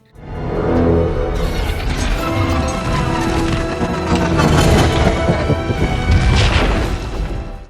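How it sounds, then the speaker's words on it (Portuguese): A missile explodes against the Chitauri mothership in an Iron Man film scene: a loud, sustained rumbling blast with crashing debris and swelling cinematic noise that rolls on for several seconds, with no speech. "a explosão estava se expandindo e chegando perto de passar de volta pelo portal"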